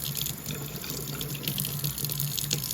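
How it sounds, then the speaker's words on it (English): Water runs steadily from a tap into a sink, a constant splashing hiss with faint drips, fairly close. "the sound of the sink in the back running water was very annoying"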